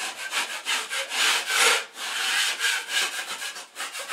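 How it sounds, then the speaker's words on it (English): Rhythmic scraping strokes of a drywall knife across a skim coat, repeating steadily at close range with no voices. "Take the knife, get rid of any high spots."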